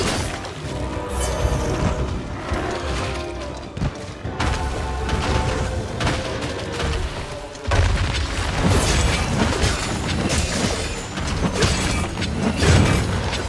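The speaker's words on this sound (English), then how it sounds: "He is immune to the explosions." Repeated booming blasts and thuds crash through a dense, chaotic din, loud and close, with impacts scattered throughout, during a Bazelgeuse hunt in the game Monster Hunter Rise.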